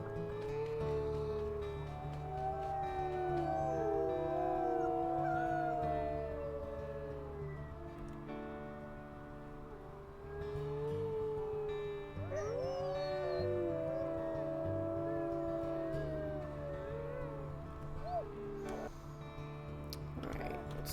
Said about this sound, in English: Let's give a few howls.